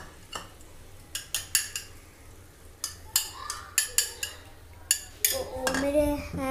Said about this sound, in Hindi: अब हम ये एग लेंगे, अब इसको ऐसे तोड़ेंगे। अब इसको मिक्स करेंगे अच्छी तरह।